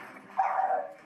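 A caged dog gives a short whimpering cry that rises and holds for about half a second, close and fairly faint, with no voices.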